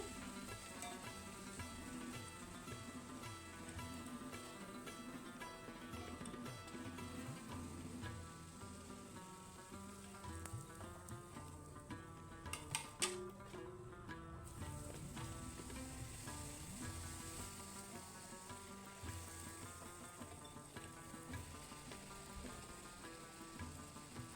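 Sweet potato luchi puffing as it fries in hot oil: a faint, steady sizzle that runs continuously throughout, with no one speaking.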